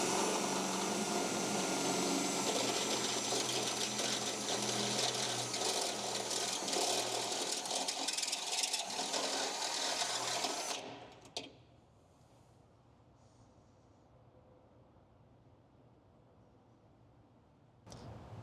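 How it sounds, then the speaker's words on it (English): A step drill bit bores a hole through a car's steel K-member frame for a riv nut install, a loud steady grinding drone lasting about eleven seconds before it stops abruptly, leaving quiet room noise. "Now that we have drilled out the hole"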